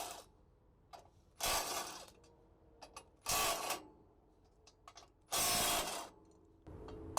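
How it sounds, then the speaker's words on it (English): A ratchet works the four top-cap bolts on a New Holland 313 discbine hub, sounding as three loud buzzing clicking bursts with small taps between, close up and without speech. "you have your 4 bolts on your top cap you would remove."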